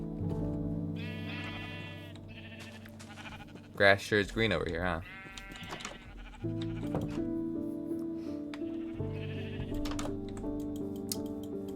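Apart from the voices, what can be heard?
sheep bleating in a video game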